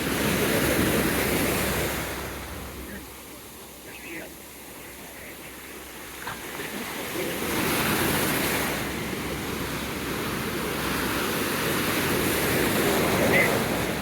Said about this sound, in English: Look at that, boy. God, these I mean, how rough. Big old wave.